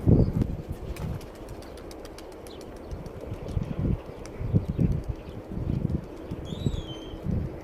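Pigeons at a coop take off with repeated bursts of wing flapping, with soft cooing and an occasional chirp over a low background, nearby and moderately loud.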